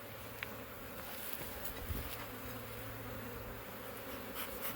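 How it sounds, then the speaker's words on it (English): A steady swarm of bees hums and drones around package and nuc hives, dense and continuous, with a few insects buzzing past close by. "Bees are coming and going like crazy."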